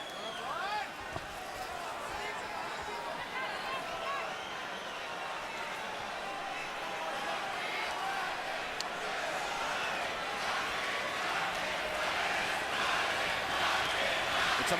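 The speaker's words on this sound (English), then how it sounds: "now they're chanting Marquez, Marquez, Marquez" Boxing crowd at a Pacquiao vs Marquez fight, a steady roar of thousands of voices with rhythmic chanting for Marquez rising and falling throughout, loud and continuous, with a commentator talking over it.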